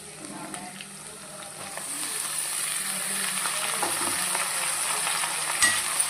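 Fenugreek leaves sizzling and being stirred in a frying pan with onions, a continuous crackling fry that grows slightly louder, with spatula scrapes near the end, close by and without speech.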